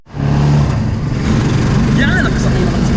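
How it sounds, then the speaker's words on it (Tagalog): A motorized tricycle in the Philippines runs with a steady, loud engine drone while people talk over the ride. "Yan, nakasakay na kami sa tricycle."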